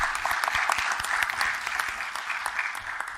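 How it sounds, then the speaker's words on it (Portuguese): An audience at a data protection conference panel introduction claps steadily, a dense burst of applause from a room full of people that holds its intensity for a few seconds without voices. "Uma salva de palmas para o Josmar"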